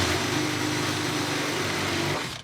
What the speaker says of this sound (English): Drill some holes for the new braided brake lines.